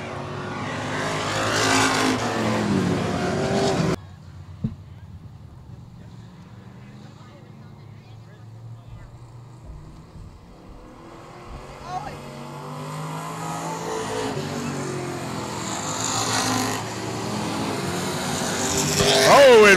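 Sprint cars at Texana Raceway Park, a dirt oval, roar past with loud engine bursts, then fade to a distant drone while a commentator speaks over the PA, before the engines swell again.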